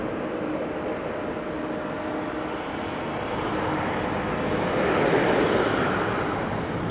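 An airliner taking off at Amsterdam Schiphol Airport, a broad distant engine roar that slowly builds in loudness toward the end, steady and unbroken with no voices.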